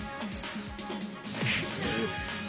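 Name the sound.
someone being hit in a cartoon beating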